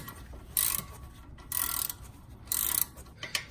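A ratcheting wrench clicks in three short bursts while loosening 12 millimeter brake caliper bolts, each burst a crisp run of metallic pawl ticks with brief pauses between.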